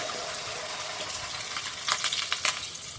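Vegetables spread into hot oil in a wok give a steady, dense sizzle. Brief sharper crackles and spatters rise near the end, close and fairly quiet, with no voices.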